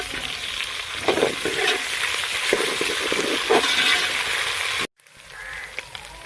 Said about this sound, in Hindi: लहसुन अदरक का पेस्ट 1 चम्मच। हरी मिर्च पीसी हुई जो है वो भी 1 चम्मच। अब हम इसे थोड़ी देर के लिए पका लेंगे।